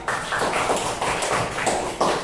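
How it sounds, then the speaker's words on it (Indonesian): A classroom applauds a student with a run of steady, evenly spaced claps, fairly close and moderately loud, with no talking over them. "Beri tepuk tangan dulu untuk Feril."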